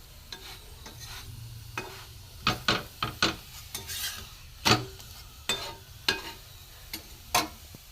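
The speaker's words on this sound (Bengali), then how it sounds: "হালকা তেলেই আমি ভাজছি, বেশি আমি ডোবা তেলে ভাজবো না।" A vegetable paratha fries in a little oil in a pan, with intermittent scraping and turning strokes from a spatula over a faint background sizzle, close and distinct.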